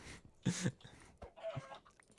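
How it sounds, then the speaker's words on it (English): Video-game chickens cluck in short bursts over a faint, noisy background, with one louder clucking flurry standing out near the start. "I could spend this entire stream cleaning up these chickens."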